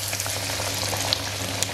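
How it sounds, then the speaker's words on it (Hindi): Batter-dipped bread pakora frying in hot oil, a steady close sizzle with occasional small pops and crackles. "अब हम इसे बैटर में डिप करेंगे। इसे ऑयल में डाल देंगे।"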